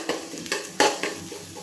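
Ginger garlic paste sautéing in a pan for Dindigul Thalappakatti-style biryani, heard as a few quick spatula scrapes and taps against the pan over a soft, close sizzle.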